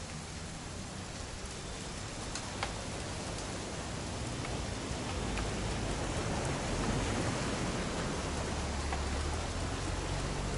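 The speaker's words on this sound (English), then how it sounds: "It's gonna rain the whole weekend, isn't it?" Rain falls steadily in the video game What Remains of Edith Finch during a hunting trip scene, a dense continuous hiss with scattered drop ticks that swells slightly toward the end, heard alone with no speech.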